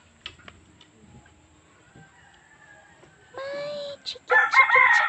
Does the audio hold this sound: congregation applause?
no